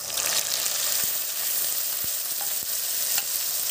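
Chopped onions and masala frying in a pan for chicken curry, giving a loud, continuous sizzle close by, with a few soft scrape knocks from stirring.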